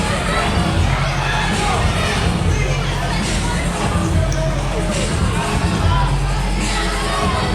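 A packed, standing-room-only crowd at a wrestling event roars and murmurs continuously, loud and dense throughout, with a commentator's voice buried in the din.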